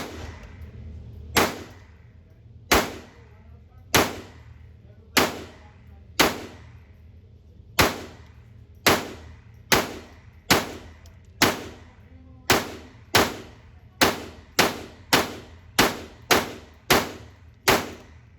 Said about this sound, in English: Going to go ahead and do a magazine dump on the top target.